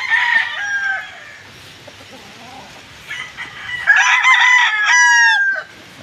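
Roosters crow loudly several times, one call near the start and a pair of overlapping crows near the end, with quieter clucking in between.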